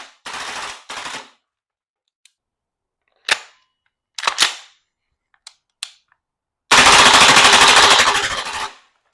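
An APFG SIG MCX Spear LT 11.5-inch airsoft gas blowback rifle on a VFC CO2 magazine firing loud, snappy close-range bursts and single shots, ending in a sustained full-auto burst of roughly two seconds with a fairly slow rate of fire.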